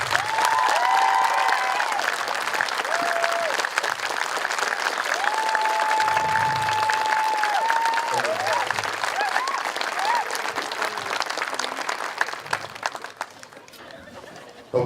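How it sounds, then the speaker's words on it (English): An audience at a JROTC awards ceremony applauds in a sustained, dense round of clapping, with some crowd chatter and a few whoops mixed in before the clapping slowly thins out. "let's give these people a round of applause for our future defenders of our great nation"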